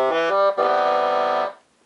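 Unico Bass Tenor 41 accordion in the baritone register: a few quick notes, then one long held chord that cuts off cleanly, near and fairly loud.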